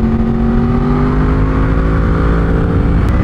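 A 2019 Yamaha R1 on a racetrack drones close and loud as the engine pitch steadily falls through downshifts, with a brief sharp blip near the end.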